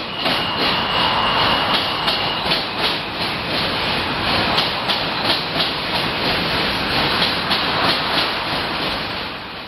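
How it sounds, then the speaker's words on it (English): A J subway train rumbles past loudly and steadily on the Williamsburg Bridge, its wheels clattering in a regular rhythm over a roaring, hissing wash of noise. "Another Jamaica-bound J train."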